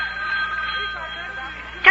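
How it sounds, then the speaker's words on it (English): An old-fashioned telephone rings with a continuous bright trill that lasts nearly two seconds, quiet and slightly distant in a studio setting, ending as a voice begins. "Telephone's ringing."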